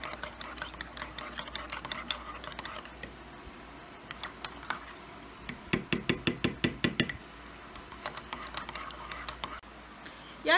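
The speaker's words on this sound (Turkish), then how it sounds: "İstediğimiz kıvamı elde edene kadar bu şekilde 1 dakika kadar karıştırıyoruz." A spoon stirs Dr. Oetker cup pudding in a glass, giving a run of quick light clinks and taps against the glass, clustered in a dense rhythmic burst midway, with faint background hum.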